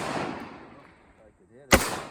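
Remington 742 semi-automatic rifle in .30-06 fired at a zucchini outdoors, a single sharp loud shot near the end after someone speaks, with a brief echo trailing off.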